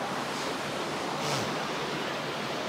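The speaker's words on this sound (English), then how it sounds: "Beautiful waves today." Ocean waves breaking on the shore, a steady loud wash of surf with a slight swell in the middle, heard alone without voices.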